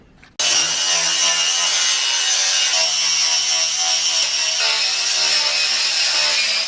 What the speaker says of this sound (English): I've used wire brush and I've used sanding discs